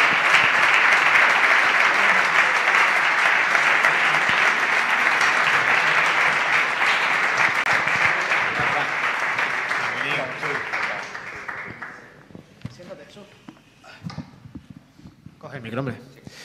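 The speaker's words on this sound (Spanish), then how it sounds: "un fuerte aplauso para Jesús Vázquez" Sustained audience applause for Jesús Vázquez at a live tribute event honouring Emilio José Viqueira, strong and steady clapping that fades out, followed by a voice speaking.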